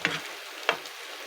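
Mixed vegetables and garlic sauté in a hot pan for chow pan, a steady sizzle broken by two sharp stirring scrapes, close and loud with no talking.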